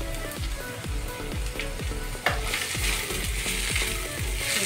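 Carrot, capsicum, cauliflower and beans frying in a pan for shahi pulao, a steady loud sizzle with regular scraping stirs roughly every half second, no voices.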